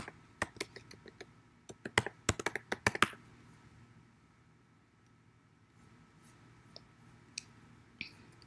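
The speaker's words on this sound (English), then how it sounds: "Type the storage account name." Quick keystrokes on a computer keyboard type out a storage account name in a short, faint, close burst of clicks, followed by near silence with a few isolated taps and clicks.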